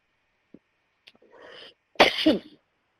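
A couple of faint soft noises, then one loud, harsh human cough burst near the end, close and abrupt.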